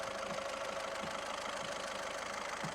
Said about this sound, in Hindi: ये एक डीजल इंजन है, इसका इतना हिलना बिल्कुल नॉर्मल है।